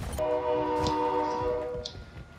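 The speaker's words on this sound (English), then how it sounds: "Loud ass train." A train in the video game Warzone 2.0 sounds a long, steady horn over a rumbling pass, loud and sustained before it fades toward the end.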